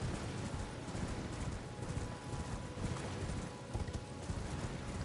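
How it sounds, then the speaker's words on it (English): Horse hooves clip-clop steadily while riding in Elden Ring, a continuous galloping patter blended with dense game ambience and wind, constant in level and without speech. "So get on your horse and ride down to this castle here."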